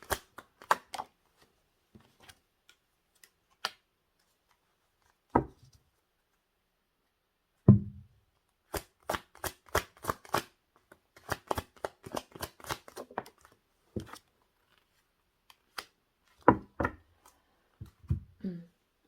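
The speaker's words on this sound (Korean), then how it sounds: "추가 카드 각자 하나씩만 뽑고 리딩 드릴게요." Tarot cards are shuffled and drawn by hand in scattered bursts of dry riffling and tapping, close and quiet against near silence, with gaps between clusters.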